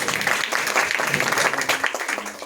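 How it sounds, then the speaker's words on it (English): Audience applause at a college exhibition inauguration, a brief burst of dense clapping from a crowd, moderately loud and sustained. "he deserves a huge round of applause for that"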